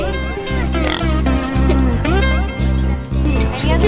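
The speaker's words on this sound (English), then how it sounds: "I am showing my pigs." Pigs oinking at a youth rodeo day stock show, a run of loud, close, repeated grunts in quick rhythm with a voice speaking over them.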